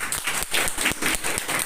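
An audience at a Metherworld mcoin meeting breaks into applause for two people, a dense, steady wash of many hands clapping close and loud for a short stretch with no one speaking.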